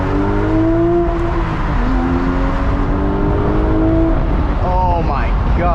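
Porsche Speedster engine pulling through traffic, a steady loud drone with rising and falling revs close by, a brief higher-pitched surge near the end.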